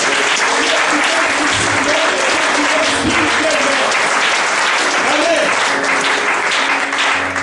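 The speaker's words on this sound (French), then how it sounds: "Acclame Jésus" A church congregation claps and cheers in acclaim of Jesus, a loud, dense, sustained wave of applause with voices mixed in throughout.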